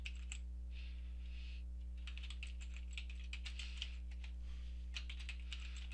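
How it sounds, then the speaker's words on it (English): A password typed on a computer keyboard: quiet irregular bursts of key clicks over a steady low electrical hum, with brief pauses between runs of keystrokes. "I'll put in my password, and you will definitely want to remember this."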